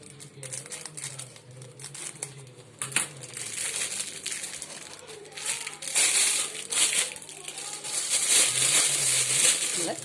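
A plastic piping bag is handled and fitted with a star nozzle, giving close, continuous crinkling and crushing that grows busier and louder toward the end, with faint talk underneath.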